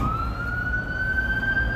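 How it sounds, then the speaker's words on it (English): An ambulance siren on Clark Street in Chicago, near Wrigleyville during a Cubs wild card game, holds a loud, steady, slowly rising tone over the rumble of street traffic. "Here comes an ambulance."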